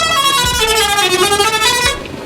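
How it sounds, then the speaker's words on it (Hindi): A loud, sustained vehicle horn blares for about two seconds at a Sunday bird market in Orangi Town before cutting off, close and piercing. "इन्होंने हॉर्न बजाया बड़ा बेहतरीन किस्म का"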